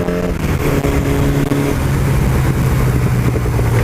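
A motorcycle engine revs hard on a December ride, a loud, close, sustained drone that climbs in pitch as the bike accelerates, with no talking.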